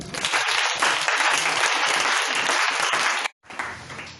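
A church congregation applauds loudly and densely for about three seconds, with mixed voices in the crowd. The applause stops abruptly, then resumes more softly.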